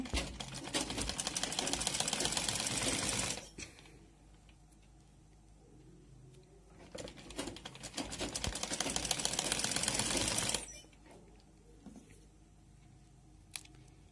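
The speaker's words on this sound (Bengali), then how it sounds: "প্রথমে নর্মাল যেভাবে আমরা অন্য জামার হাতা সেলাই করি সেভাবেই সেলাইটা করব।" A sewing machine stitches a dress sleeve in two long, fast runs separated by a quiet pause, close and loud with no talking.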